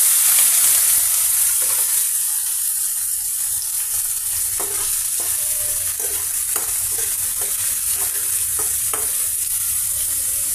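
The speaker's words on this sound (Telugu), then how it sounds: "ఇక వీటిని ఇలాగే ఫ్రై అవనిద్దామండి. పెద్దలపాయ పీసెస్, కర్రీ లీవ్స్, పచ్చిమిర్చి, పోపు మసాలా సీడ్స్ అన్నీ ఈ విధంగా" Onion pieces, curry leaves, green chillies and masala seeds fry in hot oil for a curry, producing a loud, bright, steady sizzle with repeated stirring scrapes and pops, and no speech.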